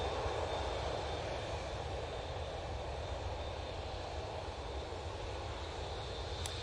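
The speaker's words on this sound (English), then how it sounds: "What we're looking at now is the Etihad 787-10 Dreamliner going back to Abu Dhabi." Etihad Boeing 787-10 Dreamliner jet engines at Manchester Airport, a steady broadband roar holding level throughout at moderate distance, with no voices over it.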